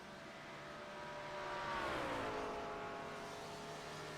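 A race car from a motorsport video game rolls down pit road at the Petit Le Mans, its engine a steady droning tone that swells to a louder pass around the middle, then settles back, with no talk over it.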